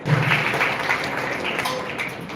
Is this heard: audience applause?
yes